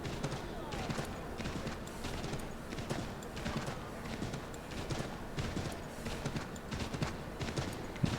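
Horse hooves clip-clop in a quick, steady rhythm throughout a street scene in the video game Assassin's Creed III, at moderate level with faint background game ambience.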